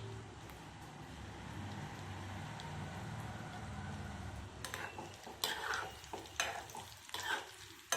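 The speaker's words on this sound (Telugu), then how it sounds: "ఇవి బాల్స్లో వేపేసుకుందాం." Gulab jamun dough balls fry quietly in hot ghee over a medium flame, a soft low bubbling that turns into brighter, intermittent sizzling bursts partway through.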